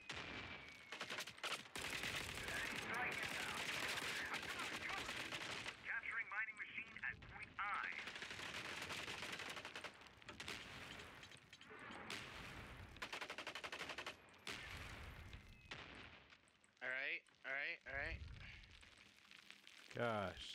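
Bombs explode and gunfire rattles in a video game battle, dense rapid bursts and heavy blasts filling the scene nearly nonstop, with people talking over the chaos.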